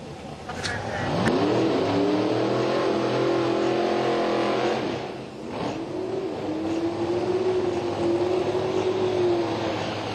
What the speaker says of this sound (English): Rolling in the right lane, and Josh Gross, the Chevrolet Camaro, going to roll into the left